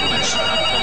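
A telephone rings in a pharmacy setting, a steady bright electronic trill filling the moment without pause, loud and close, with no voices over it.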